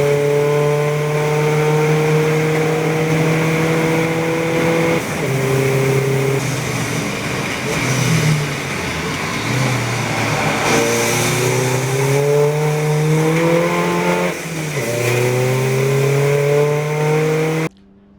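Race cars, including a Porsche Cayman, howl past on track during a Snetterton club enduro, loud engines rising and falling through gear changes with several passes and revs across the stretch.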